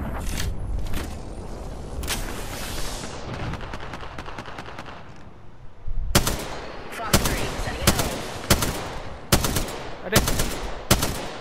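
Bursts of gunfire from the video game Apex Legends, a dense automatic stream early on followed by spaced, loud volleys of shots, with a brief spoken exclamation among them.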